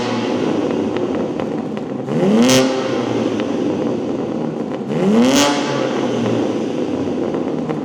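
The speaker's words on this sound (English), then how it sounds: "So this is what the H-pipe sounds like." A BMW M3 G80 engine with an H-pipe OPF-delete exhaust idles with a deep exhaust burble, then revs sharply twice, each rev rising and falling back to idle.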